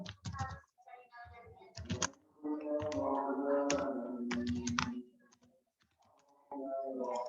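Someone types on a computer keyboard in bursts of quick clicking keystrokes, with a steadier stretch in between and faint background voice or tone, entering a search into Google Scholar.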